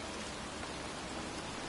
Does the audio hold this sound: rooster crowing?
no